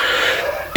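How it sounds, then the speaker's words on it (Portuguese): A single short cough from a speaker who has had a cough for several days, one brief harsh burst near the end after a moment of breathy noise, close to the microphone. "eu tô com uma tosse já alguns dias"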